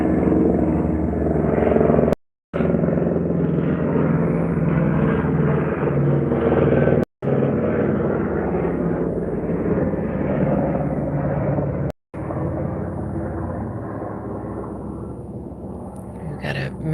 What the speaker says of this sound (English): A helicopter here.